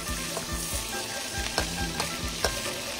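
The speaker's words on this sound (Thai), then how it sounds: "ทอดหมูก่อนทอดต้องทอดหมูให้สุกก่อนนะครับ" Pork frying in a pan, a dense continuous sizzle with soft rhythmic scraping and stirring strokes, close and steady with no talking.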